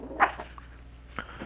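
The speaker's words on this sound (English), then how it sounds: "my dog is barking in the middle of a video" A pet dog barks faintly in a quiet room, one short muffled bark followed by a second softer one about a second later, far from the microphone.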